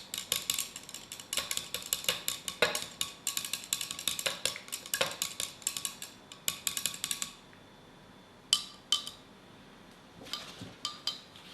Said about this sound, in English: That's as much as I'll stir.